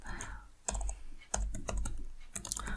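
Close, light keyboard typing with short bursts of clicky keystrokes and a few sharper taps, fairly quiet with brief gaps between runs.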